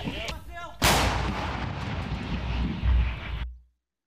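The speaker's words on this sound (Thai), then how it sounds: "ทหารยูเครนยิงปืนใหญ่จากรถถังปืนใหญ่วิถีโค้ง" A single heavy blast from a Ukrainian self-propelled howitzer near Bakhmut booms out suddenly after a brief faint sound, its roar rolling and echoing for a few seconds before cutting off.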